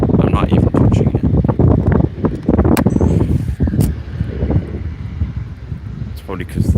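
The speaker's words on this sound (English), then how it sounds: "the wind's catching the umbrella" Strong gusty wind buffets the microphone outdoors near Faro Airport, a continuous loud rumbling roar with flapping bursts as it catches an umbrella.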